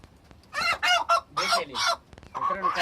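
A village rooster gives a few loud, close squawking calls in short bursts, with a brief pause before more harsh clucking calls.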